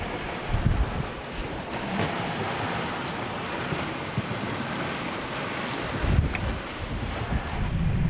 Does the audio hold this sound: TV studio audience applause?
no